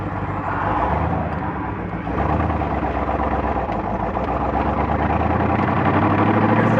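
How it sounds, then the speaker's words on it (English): A car pulls away from a stop and shifts through first, second and third gears, its engine a steady loud rumble that swells slightly as it accelerates, with no talk. "Normal start off, first gear, second gear, 40 miles an hour, third gear"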